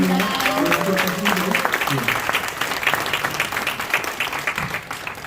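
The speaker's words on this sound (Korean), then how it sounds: "박수 한번 해주시면" Audience applause at a Korean charity fundraising evening for a comics-based evangelism ministry, a dense steady clapping from the room that carries on for several seconds. Some voices come through under the clapping near the start.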